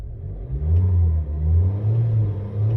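An MG ZS engine revs toward 3,000 RPM with a stuttering, uneven idle-to-rev rumble, loud and close, rising and dipping in surges with no talk over it.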